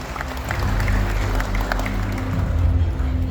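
Audience applause after an investment announcement at an official Banten provincial event, steady clapping from a crowd with low hum and murmur beneath, moderately loud throughout.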